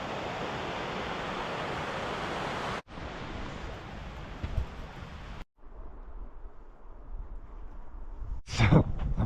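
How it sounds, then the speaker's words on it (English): Broad steady rushing of distant running water below a waterfall trail, a continuous hiss-like roar that drops off briefly twice, with some wind buffeting on the microphone near the end. "Definitely water down there."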